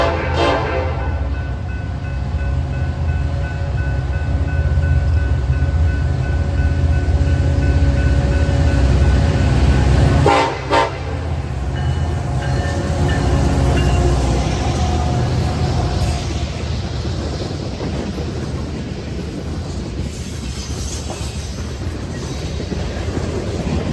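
BNSF freight train out of Clearing Yard, Chicago, bound for Galesburg, Illinois, led by an ACe locomotive with a K5LLA horn: a loud, sustained horn blast over heavy rumbling wheels and cars rolling past close, continuing long after the horn.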